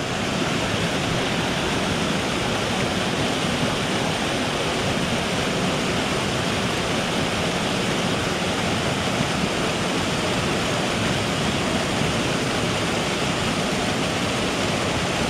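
Waterfalls on a Carpathian mountain trout stream pour in a steady, loud, broadband roar that stays dense and unchanging from start to finish with no voices.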